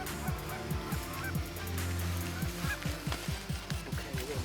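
Canada geese honk repeatedly during a Michigan waterfowl hunt, a rapid overlapping chorus of loud calls that fills the clip, with a low steady hum beneath.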